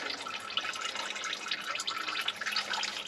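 Oil trickles and drips steadily from the drain on a 2023 Volvo VNL heavy-duty truck engine during an oil change, a continuous close liquid patter with no talking.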